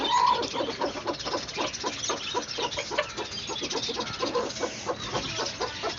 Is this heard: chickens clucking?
yes